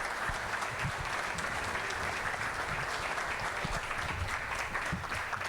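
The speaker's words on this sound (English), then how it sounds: "Let's give a warm round of applause to all of them." Audience applause for a panel at an evening panel discussion in Hilo, steady and dense clapping from a crowd that keeps an even level throughout.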